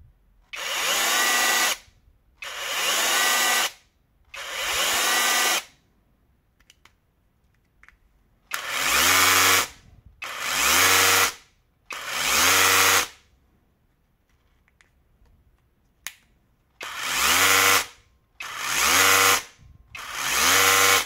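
A Parkside Performance 12V hammer drill runs in repeated bursts of about two seconds each, in three groups of three, with gentle ramp-up starts and silent pauses between, loud and close with no talking.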